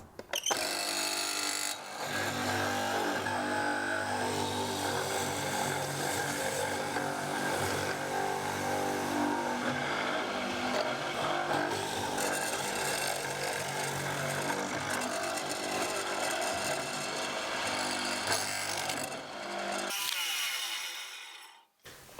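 A power machine plunge-cuts a wedge room into an oak casement window rail, running as deep as it will go. It gives one continuous loud, close whine and grind that lasts about twenty seconds before stopping abruptly.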